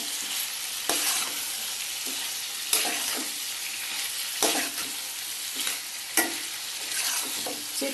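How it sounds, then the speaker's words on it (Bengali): Fried vegetables sizzle in a pan while a spatula stirs them, giving sharp scraping strokes every second or two over a constant crackling fry, close and clear with no talk. "এবার এটাকে নাড়াবো।"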